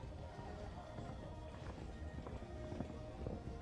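Horse cantering in a show arena, its soft rhythmic hoofbeats faint and distant under steady ambient arena noise.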